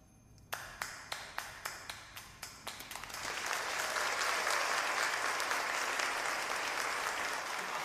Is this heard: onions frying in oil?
no